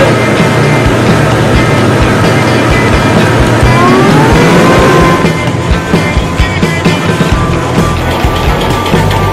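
A loud, heavy rail maintenance work car grinds and rumbles nearby over damaged rails on the Daegu urban railway at night, with constant clattering and a rising whine, filling the whole stretch.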